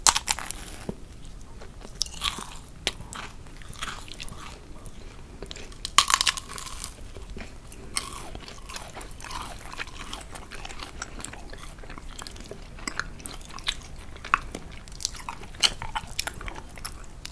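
Crunchy bites and steady chewing of homemade macarons with crisp shells and chewy centres, close and intimate, repeated crackly crunches throughout with a sharper crunch near the middle, no talking.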